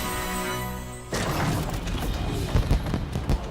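Fireworks go off in the Puppeteer video game, a run of bursts and sharp booms that crowd in after a steady tonal opening. Several louder cracks land near the end.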